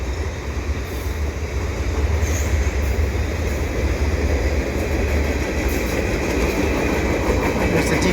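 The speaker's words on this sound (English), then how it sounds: "Looks like a grain train." A CN eastbound mixed freight train with grain cars rolls past at Pointe Claire, a loud steady rumble of wheels with clickety-clack over the rails, continuous throughout.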